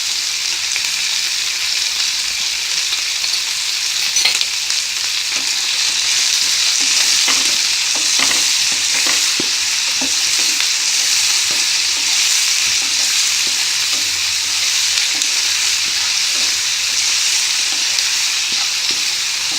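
Vegetables for sooji upma fry over a medium flame in a pan with a loud, continuous sizzle, while a spoon stirs them in irregular scraping strokes through the middle of the stretch. No one speaks.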